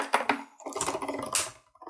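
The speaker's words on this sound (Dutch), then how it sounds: "Je hoort hem dan heel erg kraken." Paper being cut through a die-cutting machine for a Christmas card, with creaking and crunching bursts, some clicky and sharp, close and fairly quiet with brief pauses.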